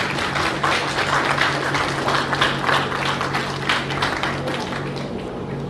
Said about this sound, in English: I wish all of you to join me now in a round of applause for all of your teachers